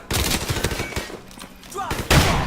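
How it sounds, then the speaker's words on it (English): Marines' gunfire in Call of Duty Modern Warfare, dense rapid bursts of automatic fire crackling loudly and continuously, with a heavier blast near the end and voices shouting underneath. "Open fire, Marines!"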